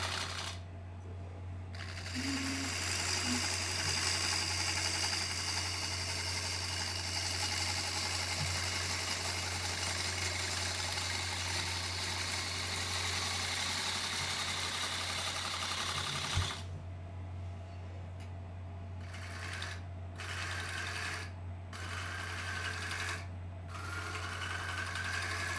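A wood lathe spins a burl bowl blank for a live-edge bowl, giving a steady, loud motor hum and whir throughout, with a small knock around the middle and the tone shifting slightly near the end.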